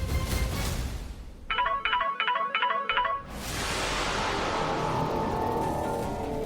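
A phone call goes unanswered, heard as a short patterned electronic ringtone of repeated trilling beeps, followed by a steady hissy background.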